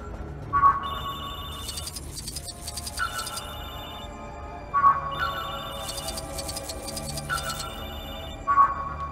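A telephone rings in the Lego Marvel Avengers video game. Loud, bright electronic ring bursts repeat at a steady rhythm, each one with a sharp chime at its start.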